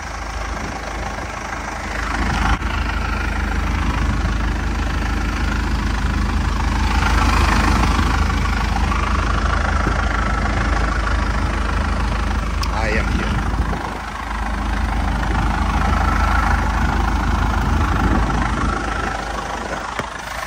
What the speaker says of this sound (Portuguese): Vou mostrar o motor pra vocês.